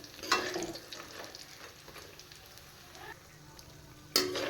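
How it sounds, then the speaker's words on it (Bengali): Urad dal bori dumplings frying in reused oil, a soft steady sizzle with occasional louder crackles and a sharper burst near the end, fairly quiet and with no talking. "ওই বড়া ভাজার তেলে বড়িগুলো ভেজে নিচ্ছি"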